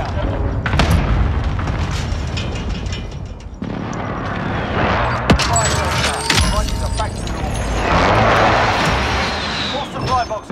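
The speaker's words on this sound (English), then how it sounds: "Be advised, friendly precision airstrike inbound." Precision airstrike explosions in a war video game: a run of heavy booms and crackling blasts with rumbling debris, loud and close, mixed with mechanical clatter and a brief voice.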